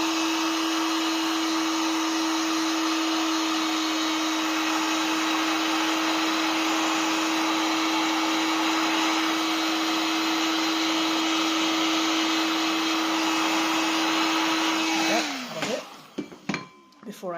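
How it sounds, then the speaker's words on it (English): A heat gun blows steadily and loudly for about fifteen seconds while drying wet clay slip on a star-shaped Christmas tree piece, then cuts off and winds down, leaving faint handling noises. "I have got here a heat gun"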